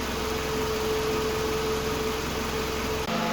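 A car's engine cooling fan runs in a steady, loud whoosh with a low underlying hum while the vehicle's AC refrigerant is being recharged, continuous throughout with a brief dip near the end.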